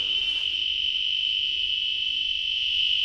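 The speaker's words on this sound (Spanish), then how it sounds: "hay otros que lo hacen por sus sonidos, y nadie mejor para eso que las chicharras" Cicadas sing in the Bajo Urubamba forest, a loud, steady high-pitched buzzing drone that holds without a break from start to finish.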